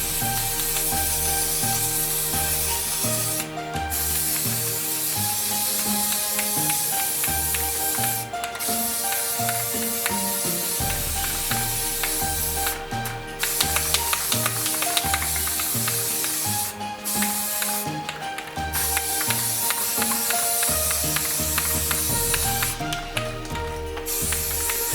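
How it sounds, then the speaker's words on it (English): Satin apple red spray paint hisses from an aerosol can onto Christmas yard bulbs in repeated bursts, close and fairly quiet, with short pauses between passes. "let's go ahead and spray paint these"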